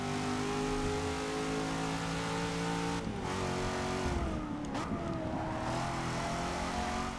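Cadillac CTS-V sedan engine driven in Forza Motorsport 6, a steady, strongly tonal high-revving drone that drops and climbs again through a gear change, close and continuous with no talking.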